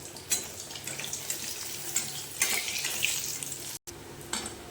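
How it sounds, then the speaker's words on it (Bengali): Pieces of katla fish frying in oil in a pan, a continuous close sizzle with occasional scraping and clinks as the fish is turned and lifted, without speech. "এবার মাছটাকে হালকা বেশি কড়া না হালকা করে ভেজে তুলে নেব"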